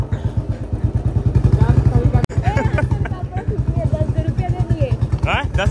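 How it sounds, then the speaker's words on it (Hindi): Royal Enfield Bullet motorcycle ridden slowly down a narrow street, its deep single-cylinder thump steady and close throughout, with people talking and chattering over it. "हम लोग बुलेट बहुत धीरे चलाते हैं और बहुत धीरे चलाते हैं"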